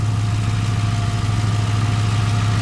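A 2008 Ford Crown Victoria Police Interceptor idling with a steady low rumble, even and continuous, loud and close, with no other sounds on top.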